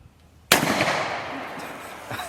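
A single sharp gunshot fired down into the ground outdoors cracks loud and close, then a long echoing tail decays over the next two seconds.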